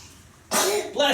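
A person sneezes during a sawdust cone craft, one sharp explosive burst followed by a second shorter burst, close and fairly loud.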